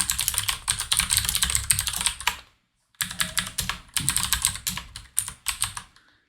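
Rapid typing on a computer keyboard while writing Java code in VS Code, close and clear, in two bursts of fast clicking separated by a brief pause, with no talk over it.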